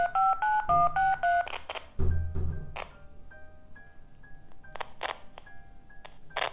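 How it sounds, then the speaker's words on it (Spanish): Telephone keypad tones ring out as an international number is dialed, a quick run of distinct beeps followed by sparse single tones and faint interference noise. "estoy marcando igual como si estuviera hablando de Estados Unidos"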